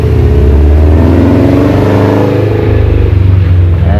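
A 2013 Subaru WRX STI fitted with an Invidia Q300 exhaust idles loudly up close, its deep, burbling flat-four rumble rising and falling in a few throttle blips.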